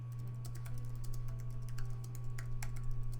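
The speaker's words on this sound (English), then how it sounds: "you see me typing when people are talking" Fast, irregular clicking of computer keyboard keys being typed on, steady and close throughout over a constant low electrical hum, with no talking.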